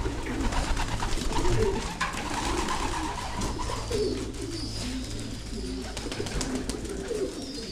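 Pigeons coo steadily and close by around a pigeon loft, with overlapping low, rolling calls and some other bird chatter over a constant background hum.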